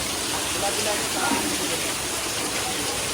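Heavy rain pours down in a steady loud hiss that fills the whole stretch, with a voice faintly present underneath.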